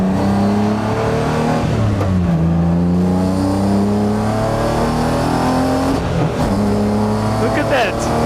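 A garage-built BMW E36 race car on a track, its engine revving hard and continuously up close as it accelerates through the gears, with a voice speaking over the engine.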